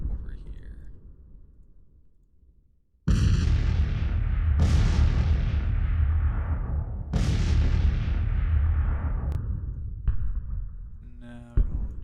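Civil War artillery fire in the '61 CSA Campaign strategy game: three loud cannon booms roughly two seconds apart, each decaying into a long rumbling tail, with a sharper crack near the end.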